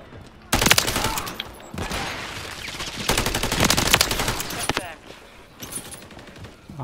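Rapid automatic gunfire in the survival game Rust, loud sustained bursts of shots with short pauses between volleys, close to the listener and without speech over it.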